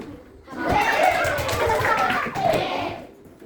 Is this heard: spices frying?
no